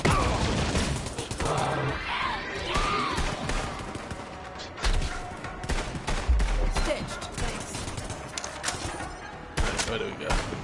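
Gunfire in Borderlands 3 bursts out in several dense volleys through a busy game soundscape, with voices talking over parts of the action.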